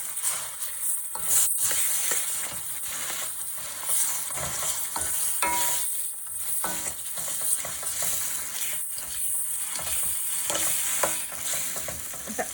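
Thick tomato paste for egg masala curry sizzles and bubbles in a hot pan while a spoon stirs and scrapes at intervals, close up and without voices.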